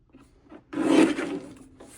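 Cardstock being trimmed on a paper trimmer during card making, one close rasping slide of the blade through the sheet lasting about a second and fading out, with light handling noises before it and no talk.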